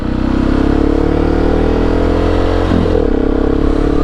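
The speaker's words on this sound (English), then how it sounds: "let's take it home and try to get a little bit of a spirited reaction to this motorcycle." A 2019 KTM 690 SMCR motorcycle under way, its single-cylinder engine droning loud and steady, then briefly shifting pitch midway as it changes gear before settling back into a constant hum.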